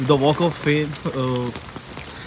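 Heavy rain falls near the Hollywood Walk of Fame in Los Angeles, a steady hiss of drops under a voice talking close by throughout.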